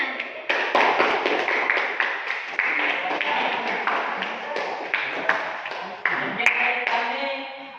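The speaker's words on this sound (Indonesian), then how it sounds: "Beri aplaus untuk kelompok C2 Nana." Students in a university biology class clap for a presenting group, a dense burst of hand claps close by that keeps going steadily for several seconds.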